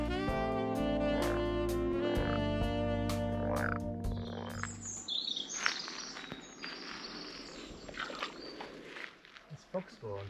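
Frogs croaking at a pond in Corsica, a dense chorus of repeated calls with insects buzzing alongside, close and fairly loud throughout, joined by footsteps and rustling in the second half.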